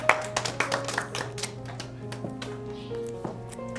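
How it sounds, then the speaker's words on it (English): Classroom children clap for three boy classmates, a short burst of sharp, separate hand claps near the start that thins into scattered, softer claps, with a steady background tone beneath. "Let's clap for our three boys."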